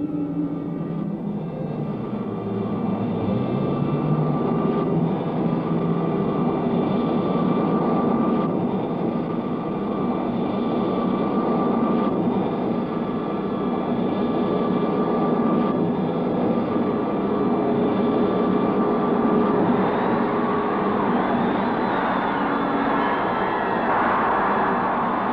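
A cartoon spaceship descends into a planet's atmosphere with a steady, loud engine roar and rushing drone, broad and continuous throughout, with no voices.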